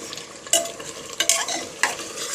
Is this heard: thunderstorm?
no